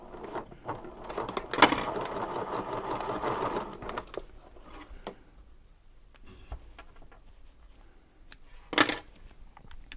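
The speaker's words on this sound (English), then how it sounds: "So I'm just going to start sewing right here." A sewing machine stitches fabric for a crossbody wallet near a zipper, running in a loud whirring burst, pausing to scattered ticks and clicks, then racing briefly again near the end.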